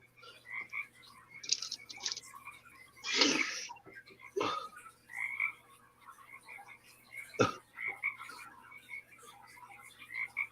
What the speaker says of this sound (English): is that you with the frogs?